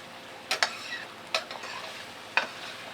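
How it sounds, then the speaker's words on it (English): Spoon or spatula strokes scrape through cooked onions and brown sugar in a pan, three or four distinct close stirring scrapes spaced apart over a soft frying sizzle. "stir that in now"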